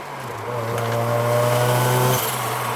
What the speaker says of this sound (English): enough single turbo noises